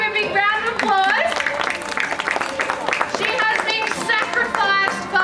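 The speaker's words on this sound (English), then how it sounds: "How about we give a big round of applause?" Audience at a wildlife sanctuary show on the Gold Coast, Australia, clapping in sustained applause, with voices, a child among them, and cheering mixed in.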